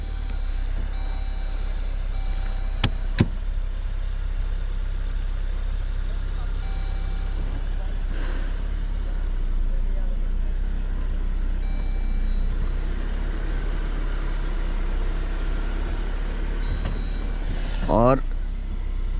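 A Jeep Wrangler Rubicon crawls over off-road obstacles with its differential locks off, its engine a steady low rumble throughout as someone talks over it, with a brief strained whine near the end.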